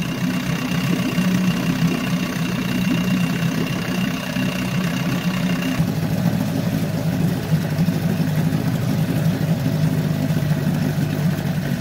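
A 34-year-old Evinrude outboard motor runs steadily at operating temperature, a loud, constant mechanical drone with a rapid, even firing pulse. Midway the tone drops slightly lower and keeps going unbroken, with no talk.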